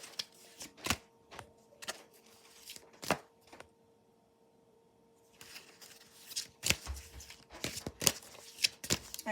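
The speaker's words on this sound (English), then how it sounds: "Let me give these oracle cards a shuffle and fan them out so we can pick some oracles." Oracle cards being shuffled by hand, close and quiet, with crisp riffling bursts and slaps that come in irregular clusters, a short lull in the middle, and busier shuffling toward the end.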